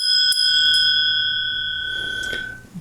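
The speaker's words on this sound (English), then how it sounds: "this is not a well-made bell" A poorly cast bell is struck a few times, each hit ringing out in bright, sustained metallic tones that slowly fade, close and loud.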